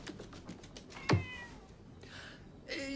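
A cat gives one sharp, close meow partway through, standing out against faint clicking and rustling noises around it.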